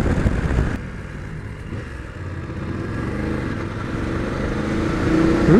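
A 2019 BMW F850GS motorcycle on a test ride, a steady engine drone with wind rush that grows louder toward the end, no talk.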